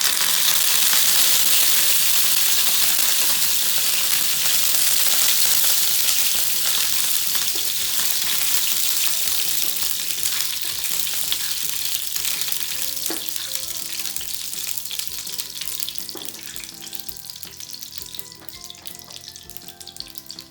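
Cumin seeds and curry leaves sizzle loudly in hot oil for a tadka, a bright continuous crackling hiss that slowly quiets, with a few faint clinks of a utensil.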